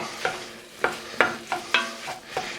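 A spoon stirs diced pumpkin in a pot for a creamy pumpkin soup, giving about seven distinct scraping strokes at an uneven rhythm over a soft sizzle, close up, with no talking.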